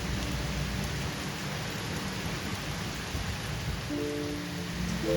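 Heavy rain falls hard and steady in a continuous dense hiss, with low rumbling underneath that suggests distant thunder, and no voices.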